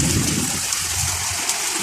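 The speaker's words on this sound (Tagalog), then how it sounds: "Kasi umuulan." Steady rain pours down in Bahrain in a continuous hiss, loud and close, with a low rumble underneath throughout.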